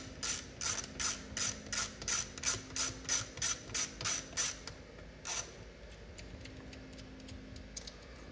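A ratchet turns double nuts off an arcade control panel: a steady run of about fourteen crisp, evenly spaced clicks, a pause and one last click, followed by faint scattered ticks, close and alone.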